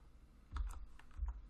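A few quick keystrokes on a computer keyboard while coding HTML, soft clicks in two short bursts, fairly quiet and close, no voices.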